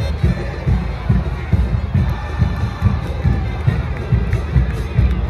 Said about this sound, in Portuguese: Mesmo sofrendo gol, a torcida continua cantando